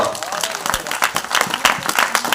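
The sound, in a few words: audience clapping loudly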